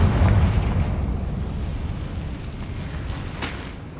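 In Hogwarts Legacy, a Confringo blasting spell goes off as a deep, heavy boom that rolls out and decays over several seconds, with a sharp burst flaring near the end.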